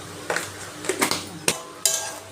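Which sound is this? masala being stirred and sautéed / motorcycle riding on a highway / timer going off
masala being stirred and sautéed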